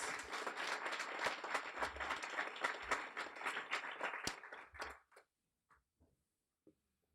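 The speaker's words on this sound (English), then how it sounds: "let's give them a big round of applause for all of their hard work" An audience at a guide dog graduation ceremony claps in loud, dense applause for about five seconds before it quickly dies away, leaving a few scattered claps in near silence.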